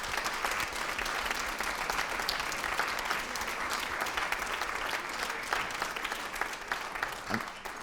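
Sustained audience applause after a talk at the KITE 2024 event, a dense, steady wash of many hands clapping at even loudness for the whole stretch, with faint crowd murmur mixed in.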